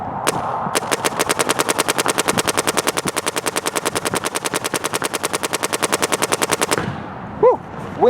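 A MacDev Prime XTS paintball marker fires a long, fast, steady burst of evenly spaced sharp pops lasting about six seconds, close and loud, then stops, followed by a couple of faint handling noises.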